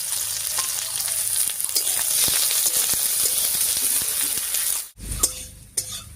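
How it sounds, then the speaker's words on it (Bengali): Onion, garlic and slit green chillies sizzle and fry in hot oil in a pan, a dense steady hiss with light stirring clicks, easing off near the end with a few utensil taps. "পেঁয়াজ, রসুন আর কাঁচা লঙ্কাটা হালকা লাল করে ভেজে নিয়েছি"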